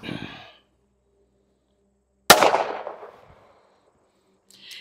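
One sharp, loud pistol shot from a S&W Bodyguard 2.0 firing Federal Hydra Shok ammunition cracks out and rings off into a fading tail. A brief voice sounds just before it.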